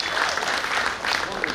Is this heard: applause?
yes